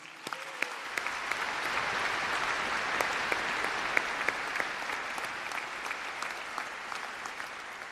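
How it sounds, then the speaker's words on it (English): Commencement audience at an OSU fall undergraduate ceremony applauding the faculty, a broad, steady wash of clapping from a large crowd that holds for several seconds, with a few sharper claps standing out near the front. "Please join me in applauding the faculty for their service to OSU"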